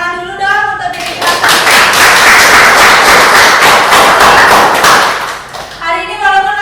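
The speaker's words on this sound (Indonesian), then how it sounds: "Kita tepuk tangan dulu dong untuk diri kita." A class of students claps together for several seconds, a loud dense burst of applause with someone speaking just before and after.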